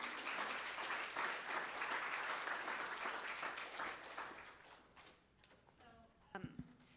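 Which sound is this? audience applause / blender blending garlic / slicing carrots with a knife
audience applause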